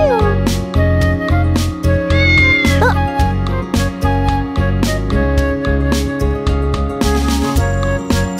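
A stray cat meows repeatedly, layered over loud, continuous music with a steady beat that fills the whole stretch.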